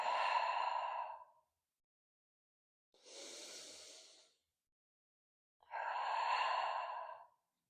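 Slow, deep yoga breaths close to the microphone: three long, soft airy sighs of exhale and inhale, separated by brief silences.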